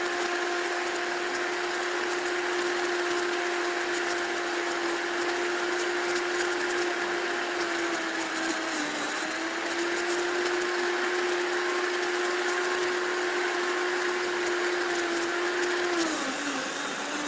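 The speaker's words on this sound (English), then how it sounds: "We just got a new blender, and it does work." A new blender blending watermelon, a steady loud motor whine that holds nearly constant pitch and dips briefly twice, heard close with no talking.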